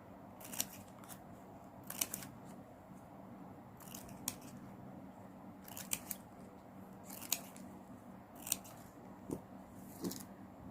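Scissors trim ribbon ends for a lotus coin garland, with about eight crisp, close snips spaced one to two seconds apart over a quiet background.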